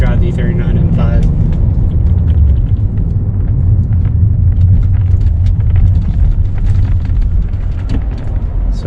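A BMW E39 M5 drives over potholed city streets, making a loud, continuous low rumble broken by irregular heavy thumps and jolts, with a voice speaking inside the cabin.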